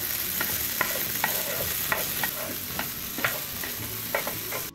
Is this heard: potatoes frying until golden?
yes